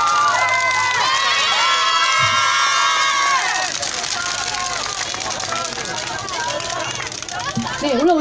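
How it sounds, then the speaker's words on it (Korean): Schoolchildren and a crowd cheer and shout loudly at an outdoor Wednesday rally, a sustained wave of high voices that gradually settles into lower mixed chatter and calls. "뭐 함성이 준비되어 계신 것 같은데요"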